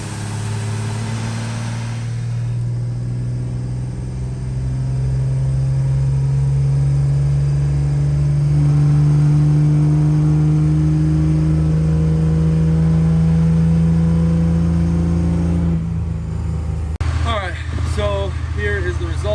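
A turbocharged car engine with nitrous revs hard on a dyno under load, a loud, sustained roar rising steadily in pitch for about fifteen seconds before cutting off sharply, with brief talk at the start.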